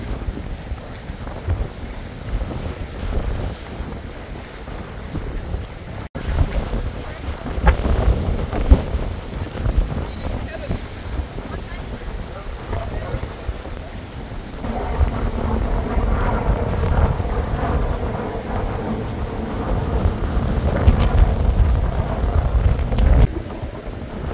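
Strong wind buffets the microphone in heavy, continuous gusts on a boat near the Statue of Liberty in New York, mixed with the boat engine's rumble and water sloshing nearby.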